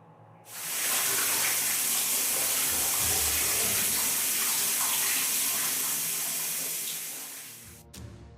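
A shower bursts on abruptly and runs as a strong, steady spray of water, loud and close, then tapers and cuts off near the end, with no voices.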